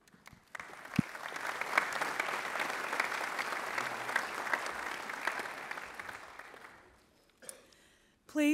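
An audience at a secondary school awards ceremony applauds in a steady, moderately loud wash of clapping that dies away after about seven seconds, after which a speaker's voice begins.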